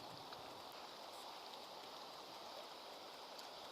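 Steady rain hissing down beside a stream during a natural-bait fishing outing, a constant wash of water noise with faint patters of drops throughout, no voices.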